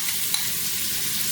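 Onion dropped into a pan of hot olive oil and melted butter, giving a steady, close, bright sizzle and hiss that stays even throughout.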